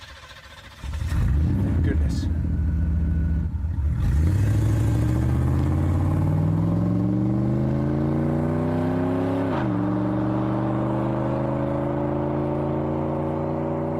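A car starts up and drives off. The engine rumbles as it revs, then rises steadily in pitch through the gears, with a brief dip at a shift before it climbs again and holds. A voice speaks briefly at the start.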